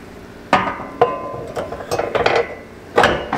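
New truck grille being wiggled onto its mounting studs, close plastic knocks and rattling clunks in irregular bursts, several sharp taps among scraping contact, no talking.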